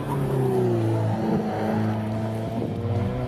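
An Alfa Romeo 4C Spider drives on the Gingerman Raceway track, a steady, fairly loud engine drone with shifting pitch as it pulls and eases off, heard close throughout with no talk.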